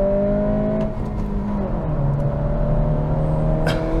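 A 2023 Acura Integra A-Spec with a manual gearbox revs in second gear, its engine tone climbing steadily and then easing into a lower drone, loud and close with no talking.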